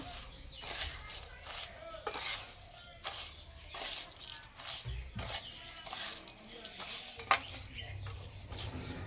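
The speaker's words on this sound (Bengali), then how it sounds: "একসঙ্গে ভালো করে মিশিয়ে নেব" Flattened rice laddoo mixture, made with jaggery and ground roasted spices, is mixed together in a bowl, giving quiet, repeated scraping and clinking strokes at a fairly regular pace.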